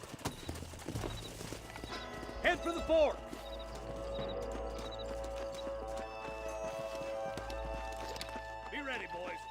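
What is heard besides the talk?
horses walking and whinnying in video game Red Dead Redemption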